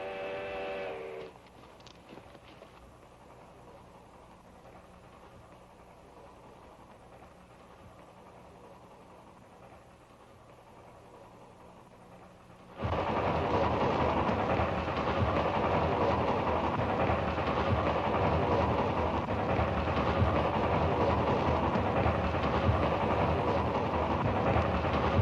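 A steam train whistle sounds briefly at the start. A low, distant rumble follows, then the rolling noise of the train swells sharply louder as it approaches and keeps going steadily, with no voices.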